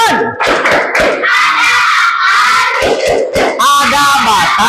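A primary school class claps in rhythm while chanting loudly together, sharp hand claps punctuating a group of children's voices in a classroom, with shouted syllables and brief pauses between bursts.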